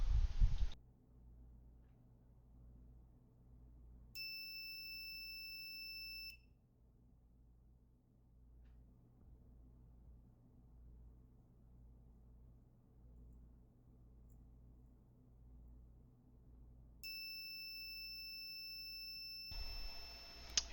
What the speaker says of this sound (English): So these next slides is the testing for the buzzer after I had just installed it.